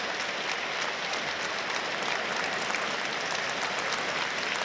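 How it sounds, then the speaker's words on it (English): Crowd in the stands at a Sunderland versus Plymouth Argyle football match gives a round of applause for a substituted player, a steady, fairly distant wash of clapping with no clear voices. "a little round of applause for Barley Mumba."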